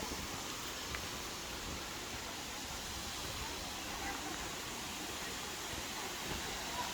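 Steady, broad roar of a waterfall on the Little Pigeon River in the Great Smoky Mountains, running high after storms, heard as a constant low rushing wash without pauses and at a distance.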